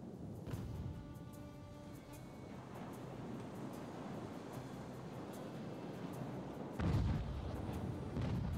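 Cannon broadsides from sailing warships in the naval battle game Ultimate Admiral: Age of Sail, a series of distant booming shots over a steady wash of sea and wind, with one heavier blast near the end.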